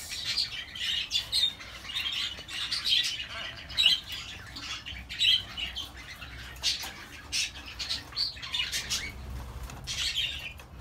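Pet budgies chirping and squawking indoors, a busy run of shrill, high-pitched calls and chatter in quick bursts throughout, fairly close and moderately loud.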